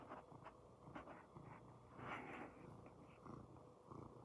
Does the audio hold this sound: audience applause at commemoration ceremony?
no